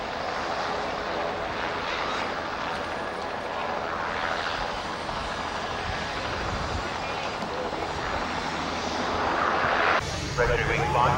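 Yak-52 aircraft's engine running steadily and loudly throughout, a continuous dense roar that swells slightly near the end, with voices talking faintly underneath.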